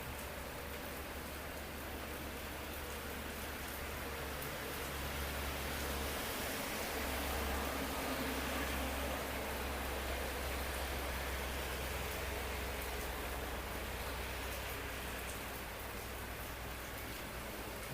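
Steady heavy monsoon rain pouring down in Mangalore, Dakshina Kannada, a dense continuous hiss with a low rumble underneath, unbroken for the whole stretch with no voices.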